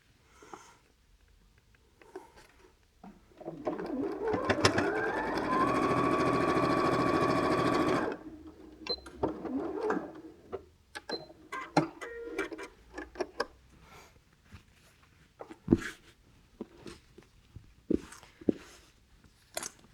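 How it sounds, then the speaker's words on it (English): Sewing machine stitching over nested quilt block seams for an Aubretia block, a steady run of about three seconds followed by quieter clicks and handling sounds. "be kind to your machine and just make sure that everything's laying flat and that the seams are as nested as they can be before you try and make it sew over the top of them"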